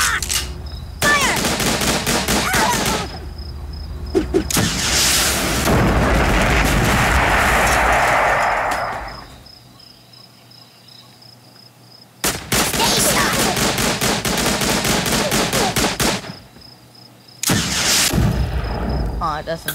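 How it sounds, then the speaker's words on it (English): Gunfire and rockets in the Tiny Troopers war video game: loud bursts of rapid machine-gun fire separated by short silences, with a longer roaring rush in the middle that fades out before the shooting resumes. "Open fire!"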